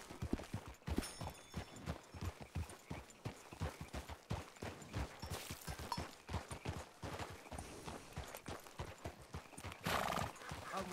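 A horse gallops and neighs in a video game, a fast, steady rhythm of clopping hooves with a whinny partway through, fairly close, with faint voices talking now and then.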